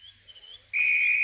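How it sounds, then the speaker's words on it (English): A faint warbling tone gives way to a sharp, shrill blast from a railway guard's whistle that holds steady, loud and close. "Oh, that's my guard's whistle."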